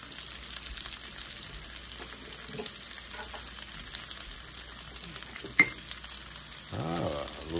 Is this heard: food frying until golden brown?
yes